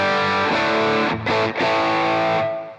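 Electric guitar run through a Walrus Audio EONS fuzz pedal set to mode 3, the lowest-gain setting, giving a light, sustained distorted tone; chords ring continuously for under three seconds with two brief dips and no talk.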